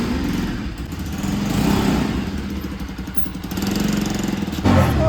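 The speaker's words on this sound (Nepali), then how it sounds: "मेरो पर्सनल ड्राइभरले चाहिँ बाइक पनि स्टार्ट गर्नुभयो।" A motorcycle engine idles close by with a steady low throbbing putter, a slight rev swelling near the end.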